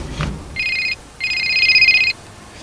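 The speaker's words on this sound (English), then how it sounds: "I'm ringing you straight away" A telephone rings indoors in two electronic trilling bursts, the first short and the second longer, loud and close with a quiet pause between, preceded by a brief click and no speech.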